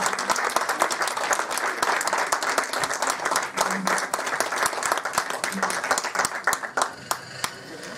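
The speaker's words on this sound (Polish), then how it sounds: "że się zgodzę na takie oklaski, to nie" Audience applause at an educational special screening of a film, a dense, loud crowd clapping that keeps steady for the whole stretch and thins slightly near the end, with some voices underneath.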